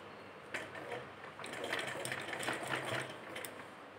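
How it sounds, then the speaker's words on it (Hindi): A sewing machine stitches a bias-cut strip of gown fabric onto a neckline, giving a steady, fairly quiet mechanical whir with light rhythmic clatter for most of the stretch. "और सिलाई लगा देंगे इसके ऊपर।"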